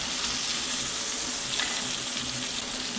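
Steak searing in a pan, a bright, continuous hiss of frying fat at moderate volume, close and even throughout with a brief flare of crackle midway and no speech.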